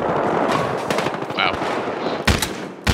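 Rapid bursts of gunfire in Battlefield Hardline, with Desert Eagle pistol shots among sharp, loud cracks over a dense, noisy battlefield background of continuous action.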